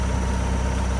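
An open station farm tractor sits idling at planting time, its steady low engine rumble continuous and close with no pauses or changes in pitch.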